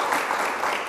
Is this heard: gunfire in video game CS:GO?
no